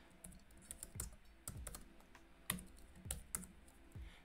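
Code for a 3D RPG in Unity is typed on a computer keyboard: irregular, close clacking keystrokes in short bursts, some sharper taps standing out, with no talk.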